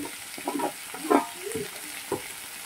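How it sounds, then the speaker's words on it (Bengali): Green chilies, salt and garlic paste sauté with potatoes in a pan as a quiet, low sizzle, broken by a few soft stirring scrapes and knocks at close range. "দিয়ে আলুর সঙ্গে এইগুলোকে ভালো করে কষাবো"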